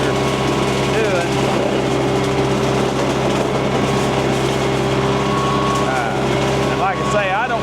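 Tractor-mounted Landhonor articulating brush cutter running steadily, a loud droning engine with a constant mechanical whine and hum that holds at a level pitch throughout.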